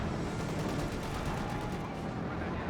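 Dense, continuous battlefield gunfire from a Company of Heroes 2 match, rifle and machine-gun bursts blending into a steady roar with no clear gaps, loud throughout the short stretch.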